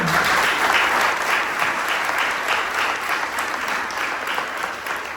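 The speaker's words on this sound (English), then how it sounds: "one more round of applause for Dwayne." An awards-ceremony audience claps in a steady, dense round of applause that holds at an even level for about five seconds, with no voices above it.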